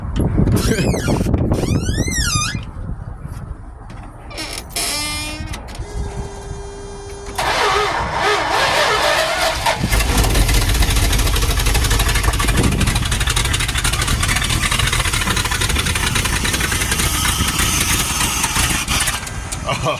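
A twin-turbo big-block Mopar engine cranks over, fires and catches, then runs loud and rough with a rising roar and steady rumble, alone without talk.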